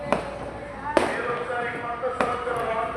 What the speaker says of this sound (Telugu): టపాసులు మొదలైనాయి.